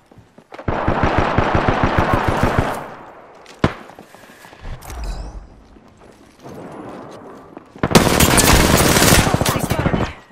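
Automatic weapon fire in Apex Legends during a squad battle: long sustained bursts of rapid, loud gunshots, a single sharp shot, quieter shuffling and movement between, then another dense burst near the end.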